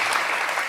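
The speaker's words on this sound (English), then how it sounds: "They clapped." An audience applauds on a televised CNN panel, a dense, steady wash of many hands clapping at once, loud and continuous throughout the brief moment.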